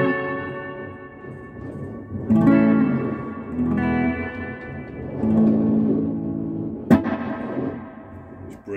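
A musical mix with a spacious hall reverb, notes ringing out and trailing off into long, washy reflections; a sharp hit near the end echoes away.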